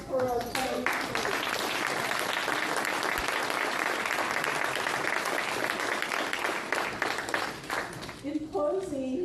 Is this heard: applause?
yes